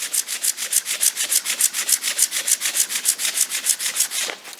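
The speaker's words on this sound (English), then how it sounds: "I'm just sanding in one way to give it that brushed look" Hand sanding in one direction to give a plastic pellet maker part a brushed finish. Rapid, even strokes rasp close up in a steady rhythm of about five per second, with no talk.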